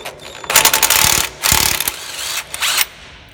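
An impact wrench removes a nut in several loud, rapid hammering bursts of about half a second to a second each, separated by short pauses, close by and with no talk.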